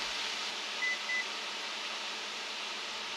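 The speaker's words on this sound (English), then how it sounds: "Now if you heard that beep, That's from the Control Freak." Two short, high electronic beeps from an induction cooktop (Control Freak) sound in quick succession over a faint, steady background hiss.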